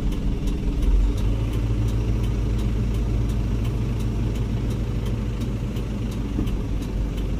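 A dump truck's diesel engine runs steadily while the gas pedal is held to power the PTO bed lift, a loud, even low drone with a slight rise near the start and a rhythmic ticking over it.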